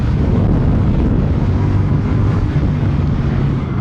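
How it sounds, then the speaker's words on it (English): A 2025 CFMOTO 450 CL-C motorcycle with automatic transmission, held in fourth gear at high revs, gives a steady, loud low drone mixed with rushing wind noise, continuous from start to end. "It stubbornly stays in fourth gear, not downshifting even after 4 laps, even when revs are high."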